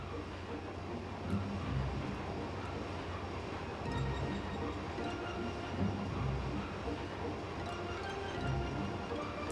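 Train from the Final Fantasy 8 video game runs with a quiet, steady rumble and faint repeating rhythmic clacks, a low continuous background with no voices.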